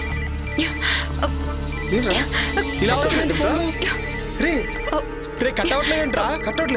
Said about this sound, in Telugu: రే నాకు కూడా శివగారి నుండి కాల్ వస్తుందిరా